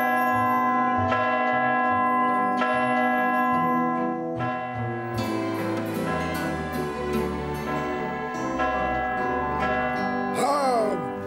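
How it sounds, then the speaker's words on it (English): Church bells ring out from a bell tower to open a midsummer market, repeated loud clanging strikes with long ringing overtones that overlap and build, ending with a brief rising tonal flourish. "let's ring those bells and get this Midsummer Market started"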